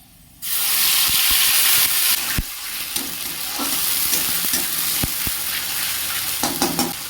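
Whole garam masala, dried red chillies, bay leaves and cumin seeds hit hot oil with a sudden loud sizzle that continues as a steady close frying hiss, with scattered pops and stirring clicks throughout.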